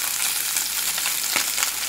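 Small mourala fish fry in hot oil in a pan with the gas flame low and a lid on, giving a steady, close, continuous sizzle with faint crackles and no talk.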